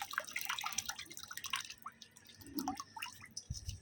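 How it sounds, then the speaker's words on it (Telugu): Scattered drips and small liquid splashes, close by, as liquid is strained into water, with a soft wet squish near the end; no voices. "ఆ వాటర్లో స్ట్రెయిన్ ప్రాసెస్ చేస్తున్నాను"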